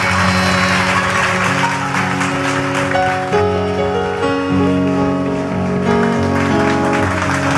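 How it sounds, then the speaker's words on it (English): A church congregation claps along during a youth week launch service, the steady massed clapping filling the room under loud music with sustained instrumental tones throughout. "Oh, keep clapping, keep clapping."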